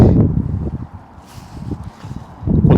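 Wind gusts outdoors at a fishing lake on a sunny, windy day, a loud rumbling buffeting that eases in the middle and surges again at the end, with no talk.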